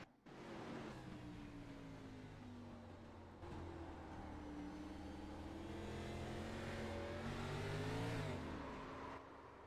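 A race car engine drones on track at Martinsville Speedway, one car running loud and close with a steady tone that dips through a corner and then rises as it accelerates, with no talk over it.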